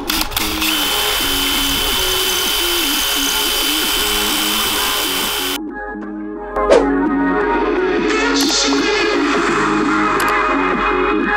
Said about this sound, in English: I'm going to use the same masonry drill bit for drilling the hole into the cinder block